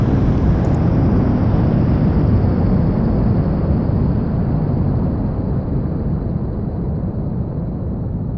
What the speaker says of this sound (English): And a flight of F-14 Tomcats.